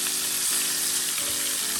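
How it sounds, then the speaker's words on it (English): Birria meat sears in a hot pan, giving a loud, continuous close sizzle with a few brief stirring shifts, no talking. "now I'm getting the sear on it"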